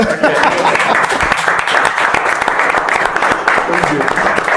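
Audience applause fills a presentation hall, steady broadband clapping from a crowd running continuously and fairly loud throughout.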